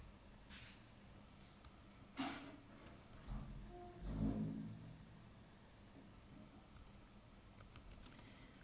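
Faint, scattered keystrokes on a computer keyboard while a resume is typed in Word, soft irregular clicks coming in short bursts with pauses between them and a few louder thumps in the middle.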